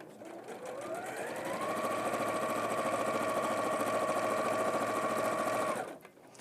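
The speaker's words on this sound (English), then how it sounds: "So I'll sew it down to my corner." A sewing machine stitches a quilt seam toward a corner in one steady, close, continuous whirring run of about five seconds, then winds down and stops. No one speaks.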